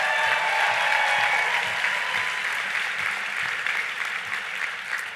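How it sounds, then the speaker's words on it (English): Big round of applause at the Netroots Nation 2018 closing keynote, a large crowd clapping loudly and continuously, easing slightly toward the end, with faint shouts under the roar. "Let's give him a big round of applause"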